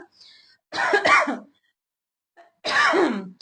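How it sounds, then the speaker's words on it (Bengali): A woman coughs in a live indoor session: a sharp double cough burst, a quiet pause, then another harsh cough, close and loud with silence between. "এত কাশি হয়েছে"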